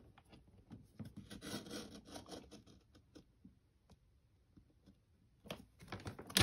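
Cardstock is cut on a paper trimmer, a faint, close scraping slice lasting about a second, followed by scattered light handling taps and a louder rustle at the end.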